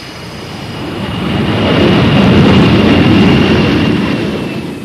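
Virgin Atlantic airliner jet engines give a loud, broad roar that builds, holds at its peak, and eases off slightly, with no voices over it.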